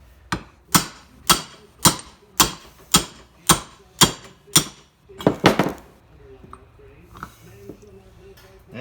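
A socket wrench ratcheting while a Cub Cadet garden tractor is worked on, a run of about ten sharp, evenly spaced clicking strokes, close and loud, then a quick burst and quieter fiddling at the end.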